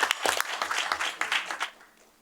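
Brief scattered applause at a board meeting, a dozen or so distinct claps from a small room, fading out after about two seconds.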